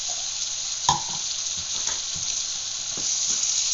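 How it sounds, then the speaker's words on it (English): Stuffed pepper filling with garlic sizzles steadily in a hot pan, a close, continuous frying hiss broken by a few scraping stirs and one sharp clack of a utensil. "So that's about all the sauteing I'm going to do."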